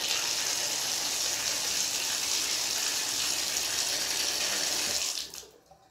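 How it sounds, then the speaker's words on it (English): Tap water gushes steadily and close from a bathtub spout in a bathroom with a Delta shower valve. The flow stays loud and even for about five seconds, then stops abruptly. "I'm going to turn the water on."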